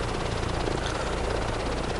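A helicopter flies in Microsoft Flight Simulator 2024, its rotor and engine making a loud, continuous, even drone with a fast rhythmic chop throughout.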